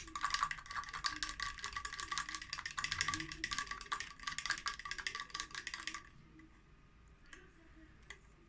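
A brush stirring liquid in a small container, a quick run of soft rapid clicking and tapping strokes that stops abruptly, followed by near quiet with a few faint taps.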